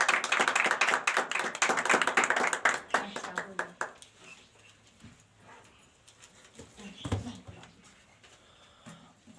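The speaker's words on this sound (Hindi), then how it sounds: "ज़ोरदार तालियों से पास्टर कादर साहब को वेलकम करेंगे" Audience applause welcomes a pastor to the stage at a church gathering, loud, dense clapping for about four seconds, then dying away into scattered claps and quiet room noise.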